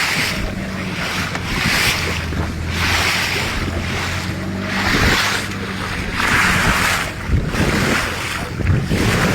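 Broad, steady wash of ocean surf swelling and easing in repeated waves at Tanjung Karangbolong, Kebumen, Indonesia, with wind noise across the microphone and a low engine hum beneath.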